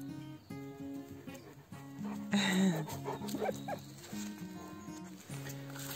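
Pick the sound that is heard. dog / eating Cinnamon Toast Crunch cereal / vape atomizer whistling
dog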